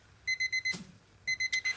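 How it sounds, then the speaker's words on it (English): A kitchen timer alarm sounds while pasta cooks, giving two bursts of rapid, evenly spaced high electronic beeps, four or five per burst, with a brief gap and a clatter between them. "That's my timer"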